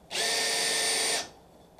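A countersink drill bit whirs for about a second, cutting aluminum skin for number 40 rivets with a Grumman-style countersink rivet tool, a steady high-pitched spin that starts abruptly and winds down, alone and close.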